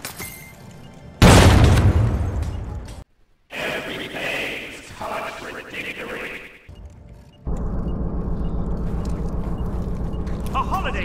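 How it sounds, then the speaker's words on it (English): A frag grenade goes off in a shooter video game with a loud, sudden blast that rings out for about two seconds, followed by clattering effects, chatter and a steady rumbling background. "Tossing a frag!"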